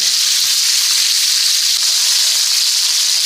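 Chicken cutlets sizzle steadily in a pan, a loud, dense, continuous frying hiss with no pauses, heard on its own without voices.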